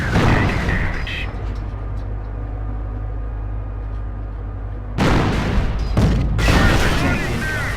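A tank cannon fires in the World War II strategy game Company of Heroes: two heavy booms land in the later seconds amid rumbling battle noise and in-game unit voices.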